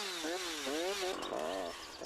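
A chainsaw cutting branches on a tree stem, its engine whining steadily and loud with pitch swooping up and down as the chain bites, then settling slightly lower near the end.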